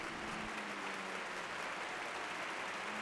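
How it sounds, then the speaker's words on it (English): Crowd at Ventura Raceway applauding a sprint car race winner, a steady wash of distant clapping and cheering from the grandstand, faint and continuous. "Nice round of applause for your winner in the 4X, Steven Simone."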